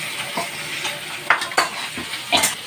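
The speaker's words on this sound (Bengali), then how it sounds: "এবার গুঁড়ি কচু সিদ্ধ গুঁড়ি কচুটাকে দিয়ে আবার ভাজবো।" Boiled guri kochu taro fries with chopped onion in a hot pan, a steady close sizzle broken by several scraping stirs of a spoon against the pan.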